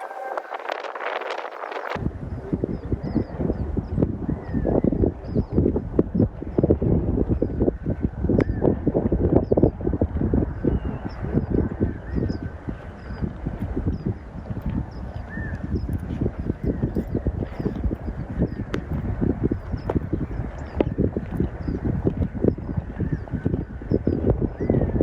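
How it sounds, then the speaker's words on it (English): Strong wind buffeting the microphone on a golf course, a steady, loud, rumbling roar for the whole stretch with no voices. "today we've got a pretty good wind back in the face"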